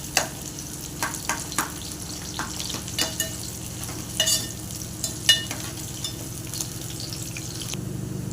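Onions sautéed in a pan until golden for a chicken curry, a soft steady sizzle broken by repeated clinks and scrapes of a spatula stirring, close by and without speech.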